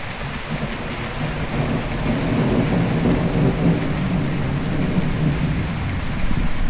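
A thunderstorm over Friedrichshafen in August, with steady heavy rain pouring onto surfaces and low rolling thunder rumbling continuously beneath it, loud and close throughout.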